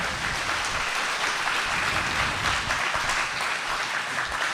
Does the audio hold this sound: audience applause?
yes